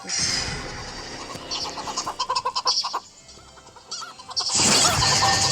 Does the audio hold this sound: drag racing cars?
no